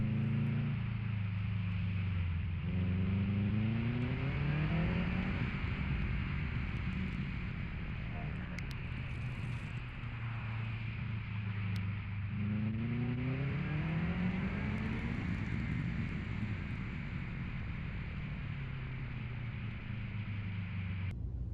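A 2006 Subaru STi at a winter autocross on pavement, its engine held at full throttle through a big slide, giving a loud, sustained droning rev that rises and falls in pitch with wind noise over the microphone.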